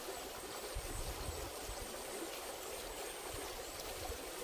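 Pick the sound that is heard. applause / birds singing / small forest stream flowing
small forest stream flowing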